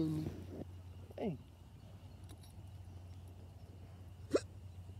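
A person hiccups on a farm among Great Pyrenees puppies and cows, two short sharp hiccups about three seconds apart, close and fairly clear over a low steady hum.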